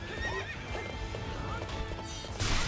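A horse whinnies with a long wavering neigh and clip-clopping hooves in Hyrule Warriors HD, heard over busy game music and effects that swell louder near the end.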